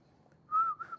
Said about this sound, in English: I heard whistling.